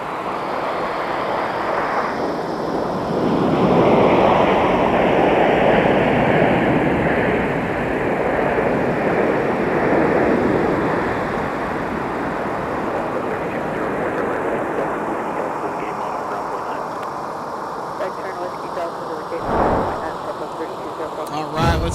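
A stubby Southwest Boeing 737-700 comes in to land at MSP airport on a winter day, a broad, steady roar that swells and then slowly fades, with a brief thump near the end.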